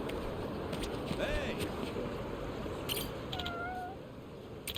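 Cats meow in the video game Like A Dragon: Infinite Wealth, several short, thin mewing calls scattered over a steady ambient outdoor background, with someone talking intermittently.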